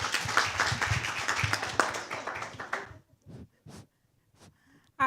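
Audience applause at a panel discussion and film screening, a dense burst of clapping for about three seconds that thins to a few scattered claps and then near silence.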